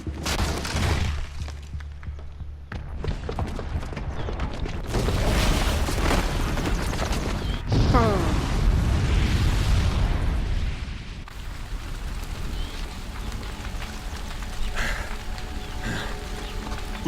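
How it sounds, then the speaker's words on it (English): A booby-trapped bomb goes off in the video game Horizon Zero Dawn, loud and close, and rolls into long rumbling blasts and a noisy wash of falling debris that fades to a lower roar. "the booby trap on the bomb downstairs is gonna get set off"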